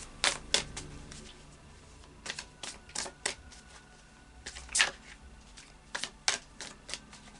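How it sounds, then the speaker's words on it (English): Anarchy Tarot cards being shuffled give a series of short crisp riffling snaps and slaps at uneven intervals, close and fairly quiet, with no talking. "I'll just do a final shuffle of the Anarchy Tarot"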